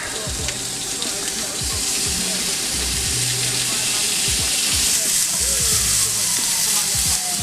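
Chunks of fillet steak sizzle and spit in a hot pan, a steady dense crackle with occasional soft knocks of handling nearby.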